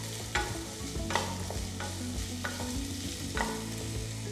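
Vegetables for veg pulao being stirred in a pan, repeated spoon scrapes and knocks over a soft steady sizzle and low hum, close and moderately quiet, no one talking.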